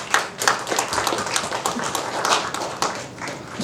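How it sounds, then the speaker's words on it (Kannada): An audience claps for Narsi sir at a film event, a dense, steady patter of many hands sustained throughout at moderate level, with scattered louder claps. "ಸೊ ಎಲ್ಲರೂ ದಯವಿಟ್ಟು ನರ್ಸಿ ಸರ್ಗೊಂದು ದೊಡ್ಡ ಚಪ್ಪಾಳೆ"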